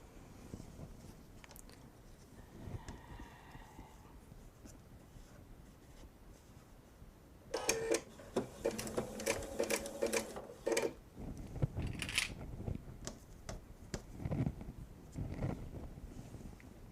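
A sewing machine runs slowly along a quarter-inch seam on a jelly roll quilt, stitching in short bursts that start suddenly and stop and restart, fairly close, with quiet room noise between runs.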